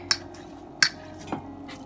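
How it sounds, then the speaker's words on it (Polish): Cabbage drops into a cooking pot of bigos with homemade sausage and pork ribs, giving three soft, close thuds with a wet squish, quiet and with no talking. "Dajemy do gara kapusty."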